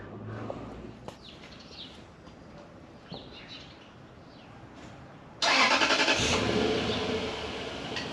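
A car engine cranks and catches at about five seconds, jumping to a loud, steady idle after quiet outdoor ambience with a few faint birds and clicks.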